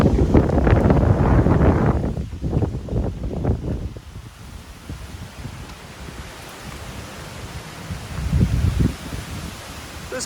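Strong wind buffeting the microphone at a riverside recreation area, heavy low rumbling gusts at the start and again near the end, with calmer, quieter stretches of breezy hiss between them.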